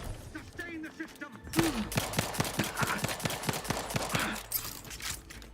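Rapid bursts of weapon fire in a video game, a dense run of sharp shots packed close together over a steady game backdrop, loud and near after a short quiet start.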